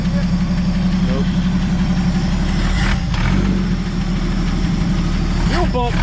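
A 1964 Chevrolet Biscayne idles steadily just after its first start in 20 years, a constant low rumble running the whole time while people talk briefly over it.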